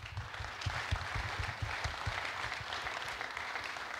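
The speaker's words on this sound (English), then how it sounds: "So we'd like to give a round of applause to the founder members." A tech conference audience gives a round of applause, with steady, dense clapping throughout that sounds quiet and somewhat distant and has no voices over it.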